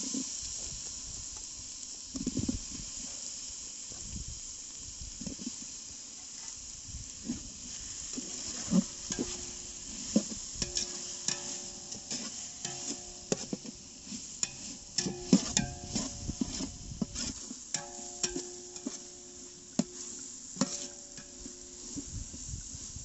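Chopped tomatoes sizzling in hot oil with ginger-garlic paste for soya chunk biryani, a steady soft hiss broken by scraping and clinking stirring strokes that grow busier toward the end.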